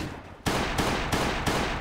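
Gunfire in the survival game Last Day On Earth: after a quiet lead-in, a loud burst of shots lands with several sharp, evenly spaced reports roughly every third of a second over a steady noisy bed.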